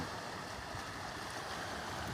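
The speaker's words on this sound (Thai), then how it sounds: "บรรยากาศทะเลช่องแสมสารนะครับ" Sea surf washing steadily near a house veranda at Chong Samae San on the Thai coast, with boats moored nearby and the tide coming in; a continuous, fairly soft wash of waves with some wind, no voices.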